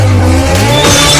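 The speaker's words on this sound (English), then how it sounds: "Cooper's SI spins out of control." A race car spins out, tires squealing and skidding loudly against a droning engine, the screech rising and shifting pitch over about a second.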